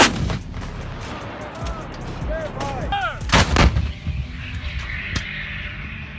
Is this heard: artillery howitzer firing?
yes